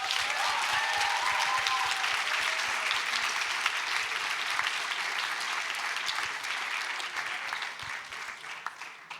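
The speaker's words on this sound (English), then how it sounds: "Let's give it one more round of applause." A large audience applauds steadily at a conference session, dense clapping filling the room for several seconds and slowly thinning toward the end.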